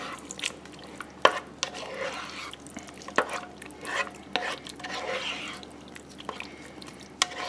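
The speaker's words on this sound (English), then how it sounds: "Just give it another stir." A spoon stirs a beef and noodle skillet in a Ninja Cooking System, scraping the pot in uneven strokes with sharp knocks over a soft sizzle and bubbling, heard up close with no voices.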